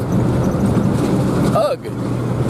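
A vehicle rattles and rumbles steadily over a washboard gravel road, with loud continuous road and cabin noise and a brief voice near the end.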